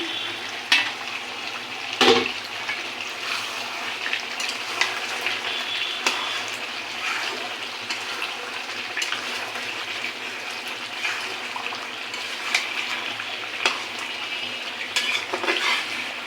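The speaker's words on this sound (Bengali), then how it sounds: "এখন ভালো করে এটা কষিয়ে নেব।" Meat and spice masala stir-fried in oil sizzles steadily while a utensil scrapes and clinks against the pan at irregular moments, near and moderately loud.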